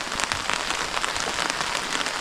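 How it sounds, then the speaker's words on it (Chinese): Steady rain pours outdoors on a remote rural roadside in Yunnan, a dense unbroken hiss of drops hitting surfaces, close and continuous with no voices. "这外面又在下雨"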